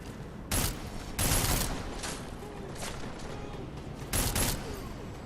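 Gunfire in the first-person game Deus Ex: Mankind Divided, with three short loud bursts of shots standing out over a continuous background wash of game ambience.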